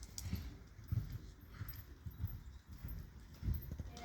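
An Andalusian horse, a Baroque breed, is ridden with hooves clip-clopping in a steady walking rhythm, close and fairly soft with low thuds.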